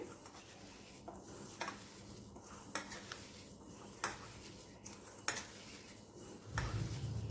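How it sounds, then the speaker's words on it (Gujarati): Milk powder penda mixture being mixed and kneaded with sugar in a pot, a faint scraping and stirring bed broken by soft, regular clinks of a utensil against the metal. "હવે તેને પણ આપણે મિક્સ કરી દઈશું અને ખૂબ મસળી લેશું આવી રીતે"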